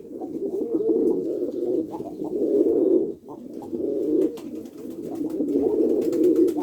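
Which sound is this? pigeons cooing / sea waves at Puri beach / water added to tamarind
pigeons cooing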